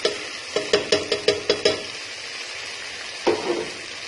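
Okra with achar masala stirred in a pan, a quick run of seven or eight rhythmic spoon knocks and scrapes over a soft sizzle, then a pause and one more scrape, close up.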